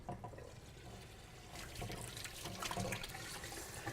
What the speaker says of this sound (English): after I wash my hands